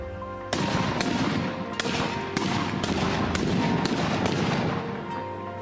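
Samurai matchlock guns firing in a gunnery demonstration, a ragged volley of sharp loud reports about every half second, each ringing briefly before the next, with no voices.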